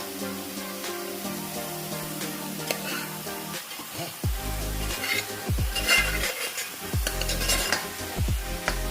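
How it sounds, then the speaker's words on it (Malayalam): Cooked green gram being added and stirred into a Kerala drumstick leaf stir-fry, with a continuous sizzle broken by repeated scraping and clanking of a utensil against the pan, growing busier as the mixing goes on. "ഇനി നമുക്ക് ഇതിലേക്ക് വേവിച്ച് വെച്ചിരിക്കുന്ന പയർ ചേർത്ത് വെക്കാം"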